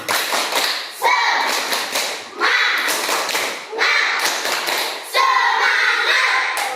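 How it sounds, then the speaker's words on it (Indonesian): Rhythmic 'tepuk semangat' spirit clapping by a class of students, sharp patterned bursts of claps in repeated phrases with short pauses between, fairly close and loud. "kita tepuk semangat dulu, boleh? Tepuk semangat."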